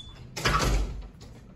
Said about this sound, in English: Oh, the door's just not stuck.